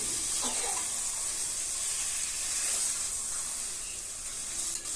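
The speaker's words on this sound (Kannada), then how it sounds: "ಚೆನ್ನಾಗಿ ಎಣ್ಣೆ ಬಿಟ್ಕೋಬೇಕು ಚಿಕನು ಅಷ್ಟು ಚೆನ್ನಾಗಿ ನಾವು ಫ್ರೈ ಮಾಡಬೇಕು" Chicken pieces fry in oil for a biryani, giving a continuous bright hiss and sizzle, close and even, with faint stirring scrapes and no talking.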